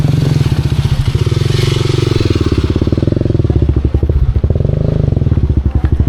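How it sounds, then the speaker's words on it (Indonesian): A motorcycle engine runs loudly and close on a rough trekking trail, its steady pulsing rumble clattering and crunching over loose ground as it passes. "Wah ini ada juga motor."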